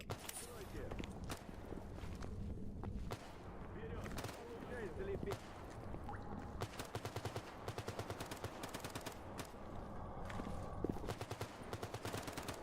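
Companions in the video game Gamma fire guns in rapid, repeated bursts at a moderate distance, the cracking shots running throughout beneath someone talking.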